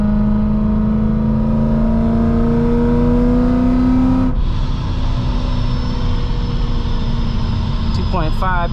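A Procharged supercharged BMW M3 engine runs on old E85 fuel while driving, a loud, continuous drone with a whining tone climbing steadily before dropping off abruptly mid-pull, then settling into a steady cruise under faint cabin noise.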